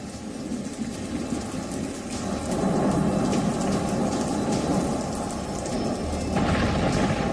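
Heavy monsoon rain pours down in Mumbai amid flooding, a dense continuous roar of rainfall with deep thunder rumbling beneath it, growing louder partway through.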